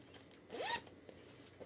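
A single quick zip of the zipper pocket on a crocheted granny square tote bag, one short rising pull, close and clear against a quiet room.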